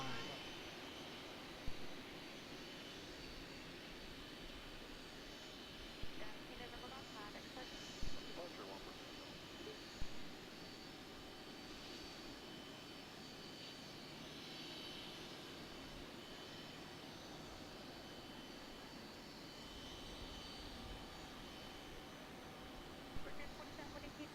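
An American Airlines Embraer 175 jet idles and rolls at Raleigh Durham airport, a steady distant engine roar beneath faint wind noise and a few soft knocks.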